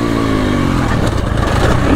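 Triumph TF450-RC 450cc motocross bike engine revving up close, a loud rough mechanical roar with clattering texture rising in pitch over two seconds.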